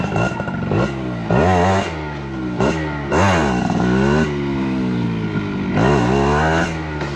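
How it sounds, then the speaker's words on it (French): A motorcycle struggling through sand, its engine revving up in repeated strained bursts that rise and fall in pitch, loud and close. "Vas-y ma bécane je crois elle en a ras le cul d'aller sur le sable"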